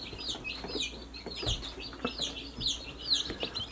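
Young Delaware chicks kept in a cabin chirp and peep continuously at close range, a busy overlapping chorus of high calls with a few soft clucks and bumps.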